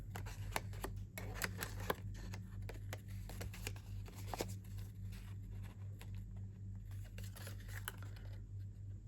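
Scissors cut paper cardstock along a cut mark toward a tab for a Halloween treat box. Quiet crisp snips repeat in a loose rhythm over a low background hum.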